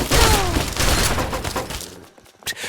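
Dense gunfire from a firefight in Fallout 3's Point Lookout fills the scene: a loud, continuous volley of overlapping shots that fades into scattered reports, then one last sharp blast near the end.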